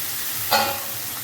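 Boiled potatoes dropped into hot oil and fried spice paste in a pan while cooking vegetarian aloo dum, a brief sizzling burst over a low steady frying hiss.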